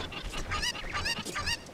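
A cucco chicken squawking in The Legend of Zelda: Ocarina of Time on the Nintendo 64, three loud, harsh, nasal honking cries in quick succession, close and alone.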